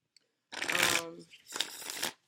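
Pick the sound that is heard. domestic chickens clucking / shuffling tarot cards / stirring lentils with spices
shuffling tarot cards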